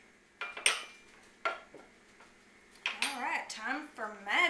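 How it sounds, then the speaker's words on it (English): A regular fork mixes buttermilk batter in a bowl for fried chicken, making intermittent clinks and tapping scrapes, with a person talking over the later part. "you can take just a regular old fork and mix this together"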